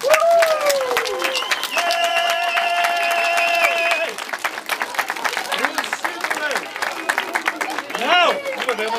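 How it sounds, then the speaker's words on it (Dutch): Applause and clapping from a crowd at a municipal event for a children's mayor, with cheering and chatter mixed in, steady for several seconds and then fading into murmuring voices. "dan geven we je nog één keer een ongelooflijk hard applaus"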